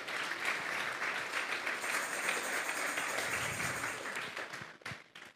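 Congregation at a Spanish-language youth church service bursts into loud, sustained applause, dense clapping holding steady for several seconds before thinning out into a few scattered final claps.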